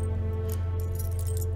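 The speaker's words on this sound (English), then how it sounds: "Here are the keys." A bunch of keys jangles briefly as it is handed over, a short, fairly close metallic rattle over a steady low hum.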